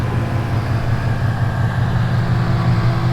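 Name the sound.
2017 Ford Mustang GT idling with radiator cooling fans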